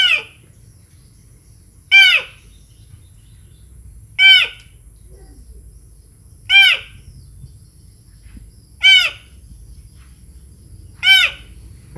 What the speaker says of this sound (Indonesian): Yang pertama adalah suara elang.